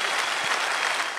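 Audience applause, a dense burst of clapping from a crowd at a business seminar, loud and steady for about a second before tapering off.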